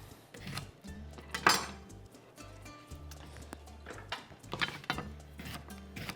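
A knife chopping fresh cucumbers roughly on a cutting board, several quick irregular cuts and knocks against the board at close range with no speech.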